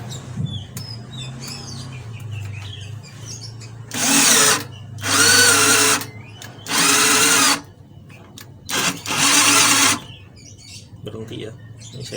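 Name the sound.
EELIC 12V cordless drill drilling with 10 mm auger bit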